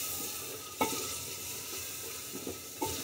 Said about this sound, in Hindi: अच्छे से हम इन्हें मिला लेते